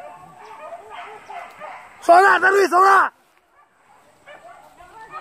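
Hunting dogs chasing a large wild boar across rice fields in Solok, with a burst of loud, close, rapid barks and yelps lasting about a second, while people shout and talk before and after.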